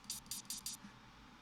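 Four quick, faint bursts of an airy swishing effect in a drum beat, in a brisk rhythm, then a low murmur beneath.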